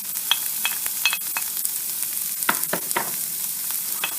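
Pepper fries in a hot pan with a steady bright crackling sizzle, broken by a few sharper clicks and stirring scrapes, close and continuous.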